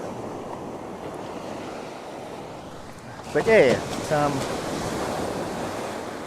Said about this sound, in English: just sort of get these waves as they come in